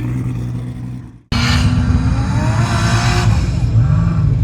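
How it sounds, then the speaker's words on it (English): 2JZ-powered Toyota KE70 panel van doing a burnout at a roll racing event in Brisbane: after a brief dip the engine roars in loud and close, revving hard with tyre squeal over a continuous rumbling drone. "He's being very responsible with his burnouts."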